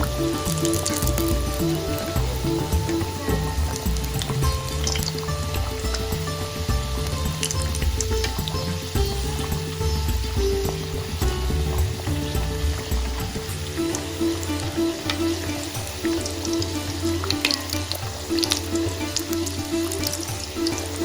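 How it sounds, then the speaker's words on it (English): Potato and egg tikki patties fry in hot oil in a wok with a steady, even sizzle throughout, under quiet background music. "Fry these until they're golden brown."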